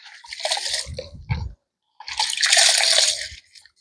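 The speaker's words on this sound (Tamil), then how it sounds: "3வது தரம் இந்த அரிசியை வந்து கழுவியாச்சு" Water swishes and splashes in two short bursts as red rice grains are swirled and rinsed, with gritty crunching between them, close by.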